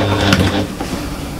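A sewing machine stitching the back of a fabric bag, close, loud and mechanical, a whirring, clattering run that eases slightly after the first half second.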